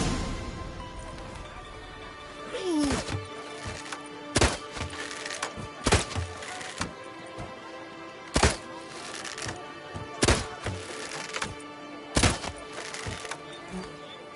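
Arrows strike targets in The Witcher 3 archery contest, sounding as sharp wooden thunks at irregular intervals, about seven distinct hits, over a faint game-world background.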